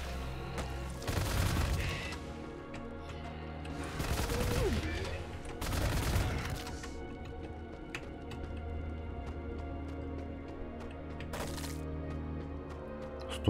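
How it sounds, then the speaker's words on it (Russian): Machine gun fire in the shooter WRATH: Aeon of Ruin comes in several loud bursts of rapid crackling shots, separated by quieter stretches with faint game ambience and a few isolated later shots. "Надо пулеметить."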